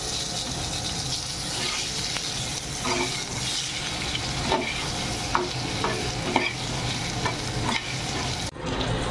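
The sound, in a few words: potatoes frying in oil with five-spice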